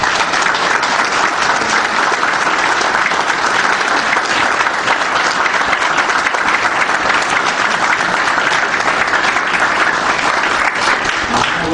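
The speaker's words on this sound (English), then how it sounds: "you give them all a round of applause" A board meeting audience gives a long, steady round of applause, a thick unbroken wash of many hands clapping at even loudness throughout.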